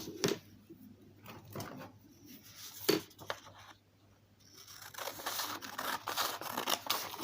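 Scissors snipping through a paper sewing pattern for a porcelain baby doll, with a few sharp close cuts and paper rustles spaced irregularly in a quiet room.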